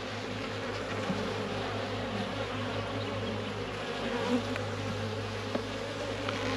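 Honey bees buzzing across frames pulled from a rescued, queenless hive, a dense steady hum from many insects close by, with faint knocks of handling and no talk.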